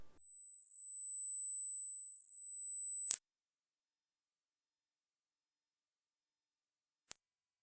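Pure test tones at 8,000, 12,000 and 16,000 hertz sound steady and loud on their own, first one high whine and then a sudden jump to a piercingly higher pitch that holds for several seconds before cutting off.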